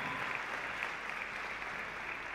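A church congregation at a 2024 training workshop applauds in a steady, dense wash of many hands, sounding somewhat distant and soft, with no voices standing out.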